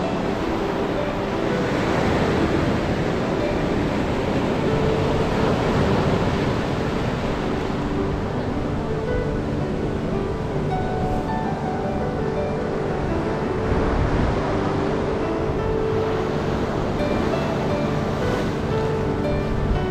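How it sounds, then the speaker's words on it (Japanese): Sea waves wash onto the shore at Itoshima beach in Kyushu, Japan, near a large white torii and the Meoto-iwa couple rocks, making a continuous loud roar of surf with some wind buffeting. "放慢脚步去感受海浪声"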